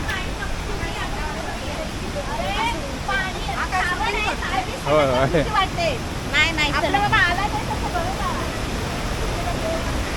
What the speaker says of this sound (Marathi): तिकडे सुद्धा एक छोटासा धबधबा आहे तिकडून पाणी येताना एक जबरदस्त वाटतं